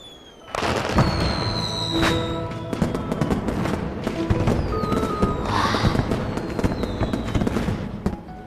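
Fireworks burst during a festival night, a dense run of crackling pops, sharp bangs and whistling rockets, loud and continuous for several seconds with no talk over them.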